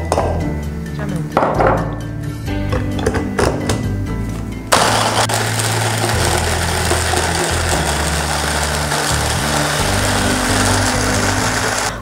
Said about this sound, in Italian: Il prossimo passaggio è quello di tritare il pane raffermo.